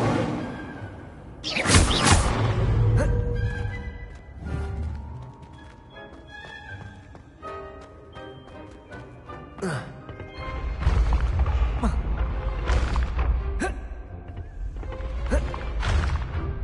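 Incendio fire spells cast in Hogwarts Legacy on PS5, several whooshing, booming bursts with thuds scattered through the clip, loud and close, over game sound.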